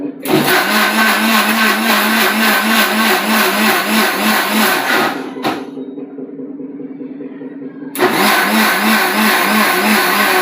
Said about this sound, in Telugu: మిక్సీ ఉందమ్మా.